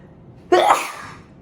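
One sudden sneeze from a woman bursts out after a quiet pause and fades within a second.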